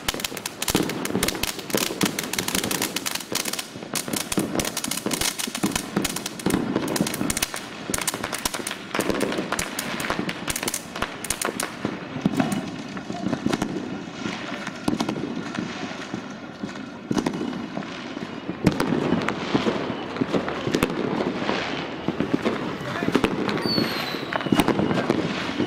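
New Year's Eve fireworks and firecrackers crackle and pop continuously in Ecuador, dense rapid bursts near and far with sharp cracks over a constant rumble, lasting throughout with no pause.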